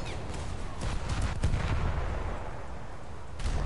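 Gunfire in War Thunder: heavy shots and booming cannon-like reports, with one sharp blast standing out amid a steady rumble of battle, loud and close.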